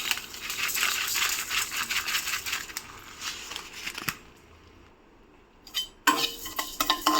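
Whole panch phoron seeds dry-roasted in a pan over a gas stove, a close, busy rattle and scrape of seeds being stirred against metal, dropping to a quiet hiss briefly before the stirring resumes.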